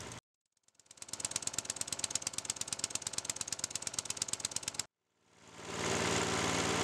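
Rover PowerMaster motor mower engine running with its old muffler, then with the new one: first a sharp, rapid rattling putter that cuts off, then a smoother, steadier hum fading in, both close.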